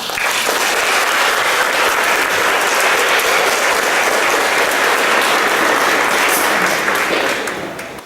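Steady, full applause from a church congregation after a child's baptism, a dense wash of many hands clapping at constant loudness for several seconds before tapering off near the end.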